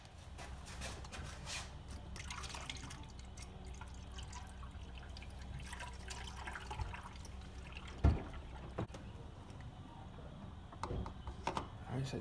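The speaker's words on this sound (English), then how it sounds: "we're gonna go ahead and fill it up until it reaches right to the top, just before it overflows" Coolant pours into the expansion tank of a BMW X5 E70, a soft steady trickle and drip under garage room noise, with a few brief knocks and clinks near the end.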